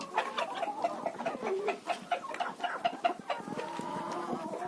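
Chickens clucking and chattering close by as they are fed kitchen scraps on a village farm, a busy run of short overlapping clucks with no talking.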